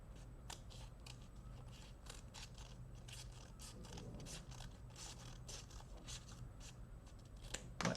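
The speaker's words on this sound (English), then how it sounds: "I'm going to take my scissors and I'm going to cut down the middle" Scissors snipping down the middle of paper, a series of crisp irregular cuts and crinkles, close and fairly quiet, with no talking.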